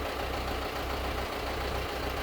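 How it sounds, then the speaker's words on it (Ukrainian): A low diesel engine of a 100 hp John Deere 6320 tractor idles steadily with a faint rhythmic knock, close by and continuous, with no voices. "Джондір їде до нових власників."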